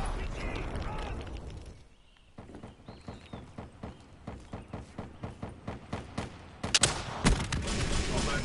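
Gunfire rings out in a PS4 video game: a steady run of evenly spaced shots, followed by a few louder, sharper bursts near the end, with voices faintly present at times.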